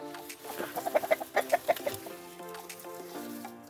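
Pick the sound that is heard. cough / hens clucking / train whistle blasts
hens clucking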